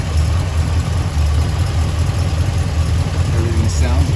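A 1966 Buick Wildcat engine idles with its torque converter spinning after a Super Turbine 400 transmission install, a steady, loud low rumble running unbroken throughout with faint mechanical whirring above it.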